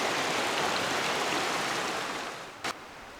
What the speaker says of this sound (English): the creek that's coming out right here is Robinson Run, which is a real deep run